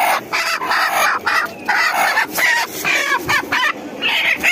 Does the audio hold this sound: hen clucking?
yes